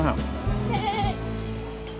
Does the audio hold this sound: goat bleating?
yes